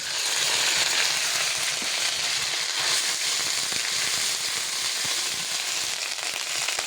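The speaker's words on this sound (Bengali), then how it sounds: "পেঁয়াজ ভাজা ভাজা হয়ে গেছে। আদা রসুন বাটা দিয়ে দিচ্ছি।" Ginger garlic paste frying hard with fried onions in oil for a duck curry, a loud, steady, dense crackling sizzle that fills the whole stretch without pause.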